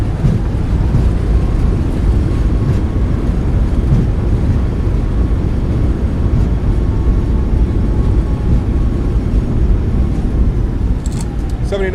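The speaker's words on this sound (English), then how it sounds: "Reversers are out." Roaring broadband rush of a Boeing 737 MAX 8's thrust reversers during landing rollout in Microsoft Flight Simulator 2024, a loud steady wind-like roar filling the whole stretch.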